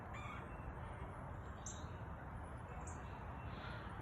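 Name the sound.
birds in trees outdoors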